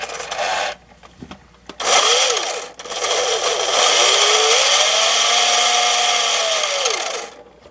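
An old Nikko Turbo Escort RC car's electric motor whines loudly in bursts, revving up and down with rising and falling pitch, ending in a long sustained run that winds up and fades, no talk.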